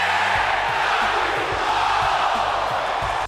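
A wrestling crowd at the Cow Palace during WCW Superbrawl VIII roars in a dense, steady wall of cheering and shouting that stays loud throughout, then cuts off abruptly at the end.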